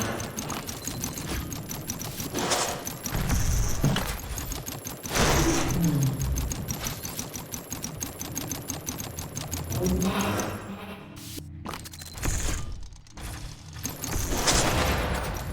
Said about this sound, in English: Yes, you can fire both the AA gun and the artillery at the same time.